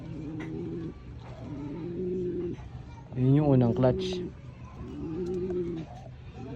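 Pigeons cooing up close, several repeated low throaty coos in a steady rhythm, with one brief louder flutter or call in the middle, while someone talks over them.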